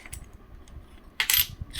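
A rare Indian coin, a single-die Hyderabad mint piece, clinks sharply once against a hard surface after soft handling noises, close and brief in a quiet room.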